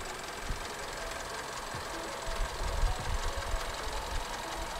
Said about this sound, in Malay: Okey, 4JJ1 punya bunyi enjin.